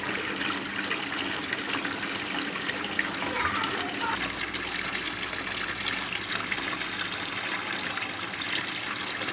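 Water pours steadily into an aquaponics tank during a siphon test, a continuous broadband gush and trickle that runs the whole time at moderate loudness, close by, with faint talk in the background.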